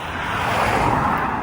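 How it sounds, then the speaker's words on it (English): Road traffic near an old river bed in Shrewsbury, Shropshire makes a steady, loud broadband roar with no distinct passes, a continuous wash of distant vehicles under open air with no one speaking. "Sorry about the traffic noise"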